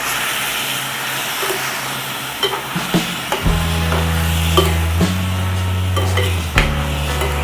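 Half a kilo of chicken sizzles and hisses in a hot pan of sautéed masala for a Chennai-style kuruma. Steady frying runs throughout, and a spoon scrapes and clatters against the pan in several loud knocks.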